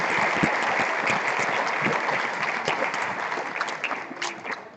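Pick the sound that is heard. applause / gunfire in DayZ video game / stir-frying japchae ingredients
applause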